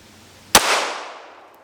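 A single sharp pistol gunshot fired at close range, a loud instant crack followed by a long, fading ring of echo that trails off over more than a second.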